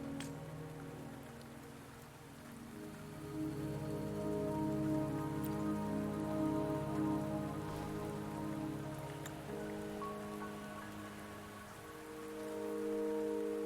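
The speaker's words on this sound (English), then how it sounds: "Don't worry, the rain won't last much longer." Steady rain falling in the video game Wuthering Waves, a soft continuous patter with a low droning background hum, even and unbroken throughout, no speech.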